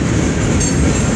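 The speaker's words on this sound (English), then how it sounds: "This is a good mixed train." A one-engine mixed freight train rolls past close by, a loud steady rumble of wagons on the rails with no break and no voices.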